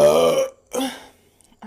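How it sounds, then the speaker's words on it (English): A woman lets out a loud, drawn-out belch followed by a second, shorter burp, close to the listener with no talking. "I keep like ending it and then feel like I need to burp"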